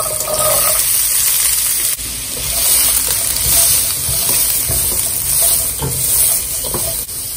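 Carrots fry in hot oil for fried rice, giving a steady close sizzle with bursts of stirring and scraping in the pan throughout.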